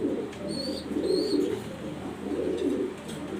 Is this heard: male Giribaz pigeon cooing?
yes